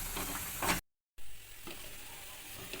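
Spice masala frying and steaming in a pan for an egg and potato curry, a steady close sizzle with stirring scrapes, cut by a brief moment of total silence before the hiss resumes.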